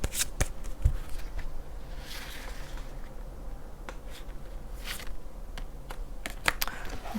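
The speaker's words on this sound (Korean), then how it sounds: "마지막으로 조언 카드 뽑아보고" Tarot cards shuffled and drawn by hand for an advice reading, giving a run of close, crisp riffling and snapping card sounds with short sharp flicks scattered throughout, no talking.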